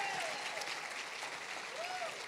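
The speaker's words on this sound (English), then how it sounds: "Can we give everyone, please, a round of applause?" Audience applause at a BLEXIT event in Greenville, a steady wash of clapping holding at an even level throughout, with faint voices or whistles rising over it.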